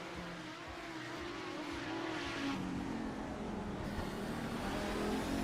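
Race car engine at the Long Beach 800 endurance round lifting off the throttle into corners, a continuous loud engine note that dips and shifts pitch, with faint crowd-like ambience behind it.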